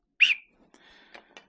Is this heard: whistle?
yes